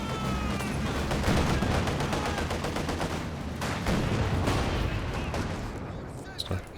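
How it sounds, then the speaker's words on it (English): Sniper rifle shots amid a constant wash of gunfire and battle noise in the Company of Heroes 2 strategy game, a 3v3 match, with rapid crackling fire throughout. "Sniper picking a few shots there."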